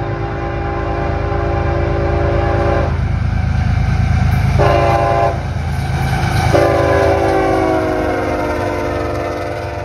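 A loud CSX freight train rumbles past close by in Westfield, New York, its horn blaring in several long blasts over the steady roll of wheels and cars.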